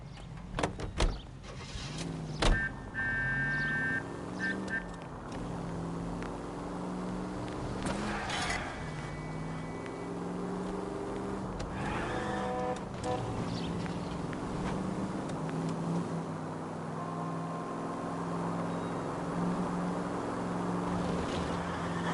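A commandeered car driven through city streets in LA Noire, its engine droning steadily and shifting pitch as it speeds along, with a few sharp knocks early on and a continuous loud rumble throughout.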